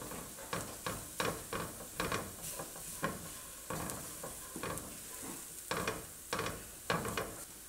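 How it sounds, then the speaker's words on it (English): Flour browns in a frying pan, giving a soft sizzle broken by repeated scraping stirs at a steady rhythm, close by and moderately quiet, with no talking. "Get some of that flour brown."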